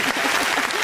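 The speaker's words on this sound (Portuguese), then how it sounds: "Tem até palmas." A brief burst of applause from a few people, close and dense, lasting under a second.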